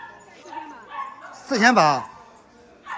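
Bichons and grey toy poodles at a dog market give a brief burst of yipping barks, loudest near the middle, beneath steady conversation between people haggling.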